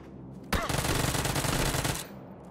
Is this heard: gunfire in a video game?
yes